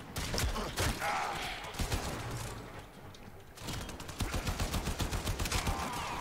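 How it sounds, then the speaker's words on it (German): Pistol fire in the video game Warframe comes as quick bursts of sharp shots, a rapid cluster early, a short lull, then another rhythmic volley of evenly spaced reports. "Na komm, benutzen wir mal ein bisschen die Pistole."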